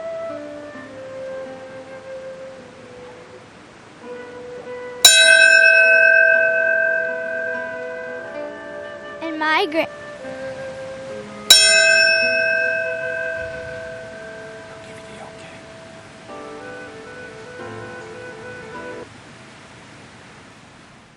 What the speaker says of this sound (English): in just moments, they'll be ringing a bell to mark 9:03